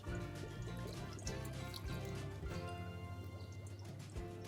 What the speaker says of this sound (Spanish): esta agua la volvemos a introducir